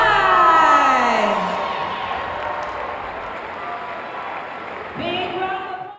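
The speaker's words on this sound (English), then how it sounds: "Big round of applause" A large crowd at the 2018 Reebok CrossFit South Regional women's event in Salt Lake City's Salt Palace bursts into loud applause and cheering. It slowly fades, then swells again near the end as an announcer's amplified voice speaks over it.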